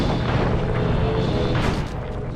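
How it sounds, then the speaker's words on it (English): A tank turret firing in the Sly Cooper video game, a heavy booming blast with rumbling noise that fills the clip loudly and steadily before easing slightly at the end. "The R1 button fires your turret."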